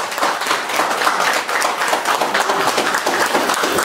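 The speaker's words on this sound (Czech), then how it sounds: "Takže všichni, prosím vás, potlesk" Guests at a birthday party in Brno clap loudly for the host's mother, a thick, continuous round of applause close at hand.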